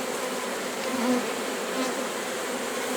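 Honeybees shaken onto hive frames, along with nectar, buzz loudly in a dense, steady swarm hum that fills the whole stretch, close and continuous with slight swells.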